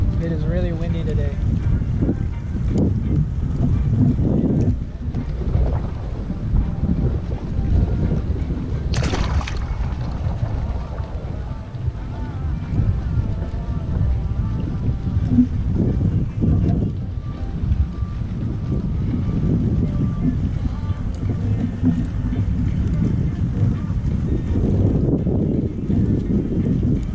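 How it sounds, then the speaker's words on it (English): Strong wind buffets the microphone on a boat out on Glorietta Bay, a constant low roaring rumble with gusty surges and splashing water, while a person speaks intermittently underneath. "It is really windy today."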